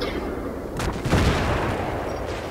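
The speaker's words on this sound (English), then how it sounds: "There's too many explosions in here." Explosions and gunfire in the Battlefield 3 video game, a dense, continuous wall of loud blasts and rumbling booms with a heavier burst swelling about a second in.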